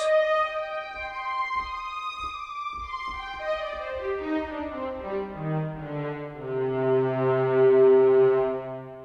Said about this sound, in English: it's what's going to give this string sound that lovely swirling sound